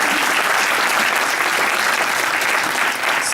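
A crowd at an innovation forum in Slovenia applauds warmly, a full steady roar of many clapping hands with no talk over it.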